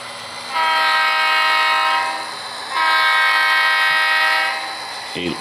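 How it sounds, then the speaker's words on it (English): Horn of an Athearn SD40-2 model locomotive on a layout, sounding in two long sustained blasts with a short pause between them, loud and steady with no talking. "You might have to put up with a lot of horn blowing with this locomotive."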